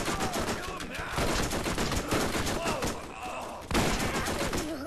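Rapid gunfire from the Borderlands video game rattles in dense bursts for nearly the whole stretch, with occasional voice-like sounds mixed under the shots.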